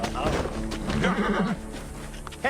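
Horse neighing in the video game Assassin's Creed Origins: a whinny rises over clip-clopping hooves and ambient game sound, with people talking at the same time.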